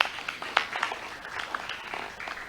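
Scattered applause at the closing of a summit in a resort ballroom, light uneven claps with a few sharper individual hits, moderately near and fading in and out without a steady build.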